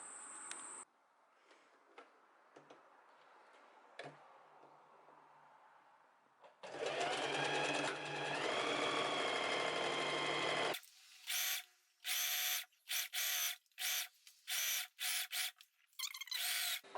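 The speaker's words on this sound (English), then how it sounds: "we're going to sew with 1 centimeter seam allowance all the way until we come over here." A domestic sewing machine stitches fabric at a 1 cm seam allowance, running in a loud, steady whir for a few seconds, then in short bursts, with quiet handling noises before it starts.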